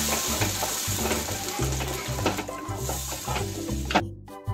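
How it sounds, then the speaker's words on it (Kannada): Onions and tomato paste frying in a pan, a loud sizzle broken by repeated rhythmic scraping knocks from stirring, with an abrupt stop at the end. "ಈಗ ಇದನ್ನ ಈರುಳ್ಳಿ ಹಸಿ ವಾಸನೆ ಹೋಗುವವರೆಗೂ ಸ್ವಲ್ಪ ಫ್ರೈ ಮಾಡಬೇಕು"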